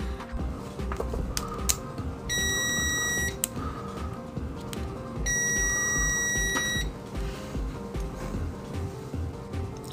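Continuity beeps from an ANENG M167 budget digital multimeter, two steady electronic tones of about a second and a half each, separated by a gap, sounding over a constant low hum and background noise.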